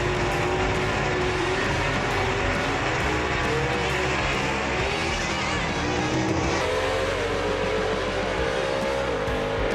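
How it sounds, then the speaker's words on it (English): A 1955 Thunderbird gasser drag race car launches down Knoxville Dragway, a loud, sustained engine roar with rising revs and a brief tire squeal, heard from trackside for nearly ten seconds without pause. "Mike Blackwell with a good launch and a straight run right there."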